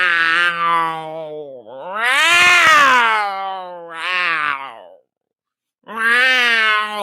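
A human voice imitates cats fighting, with drawn-out, wavering yowls and caterwauls in several loud bursts separated by a brief pause.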